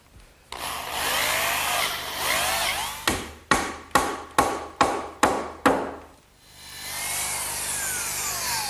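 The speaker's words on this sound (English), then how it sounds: "I'm just going to drill a hole down through the top and pin it with a dowel" A drill grinds steadily down through the top of a 2x4 garden bench, then seven sharp, evenly spaced hammer blows ring out before the drilling noise resumes.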